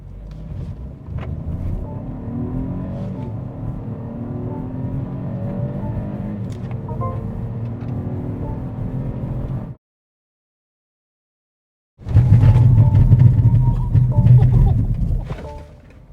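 A BMW X1 long-wheelbase SUV with a 1.5-litre engine accelerating from 0 to 100 and then braking, its engine droning and rising steadily from inside the cabin, cut by a short silence before a second loud burst of engine and road noise.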